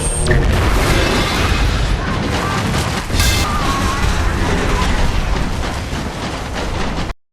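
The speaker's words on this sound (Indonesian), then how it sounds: "Yulo membalas dengan mengaktifkan bom yang dirampas dari Harry" A bomb goes off in a film scene, a loud, sustained roar of blast and rumble with a sharp burst partway through, then cutting abruptly to silence.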